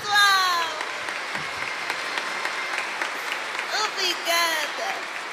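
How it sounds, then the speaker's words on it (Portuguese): Applause from a church congregation, steady broadband clapping filling the space for several seconds, with voices calling out and chattering over it. "Palmas para Jesus, pessoal!"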